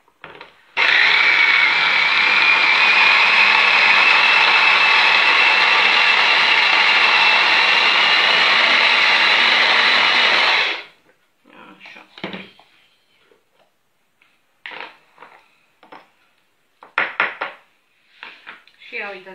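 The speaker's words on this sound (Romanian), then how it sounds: "Și acum amestecăm, le mixăm cu un mixer." A handheld mixer blends homemade ice cream in a kitchen, a loud continuous whirring drone lasting about ten seconds before stopping, followed by scattered clatter and short handling noises.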